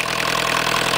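A Volkswagen engine turning a generator through a pulley, running steadily at around 1,800 to 2,000 rpm, a constant close hum with an even low throb and no talk.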